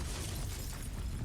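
Confringo spell explosion in the Hogwarts Legacy video game: a steady, dense rumbling blast with crackling texture, held at moderate level throughout, no speech over it.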